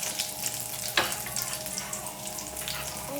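Green chillies and garlic hit a hot pan and fry with a dense, continuous crackling sizzle, one sharp spatter or clank near the start, heard up close without any voices.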